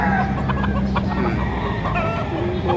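Chickens cluck repeatedly at a crowded poultry market in Padre Garcia, Batangas, with brief rooster calls mixed into the steady background din.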